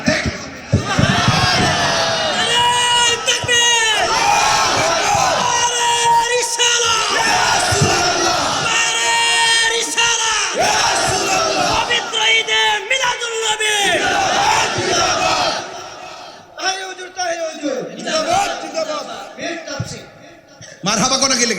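A large crowd at a religious sermon shouts takbir back to the preacher in loud, repeated collective roars, separated by the preacher's amplified calls, with one quieter stretch before the shouting swells again.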